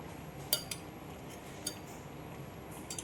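A spoon scrapes and clinks against a pan while rava coconut burfi mixture is stirred, with a few sharp metallic taps standing out over a low, steady background, and no voices.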